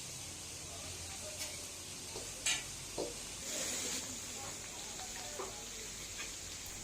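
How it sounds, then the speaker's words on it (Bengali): Hilsa fish and eggplant frying side by side in mustard oil at a riverside eatery in Mawa, a quiet steady sizzle broken by a few sharp clinks and scrapes of utensils. "ইলিশগুলোকে সরিষার তেলে ভাজা হচ্ছে"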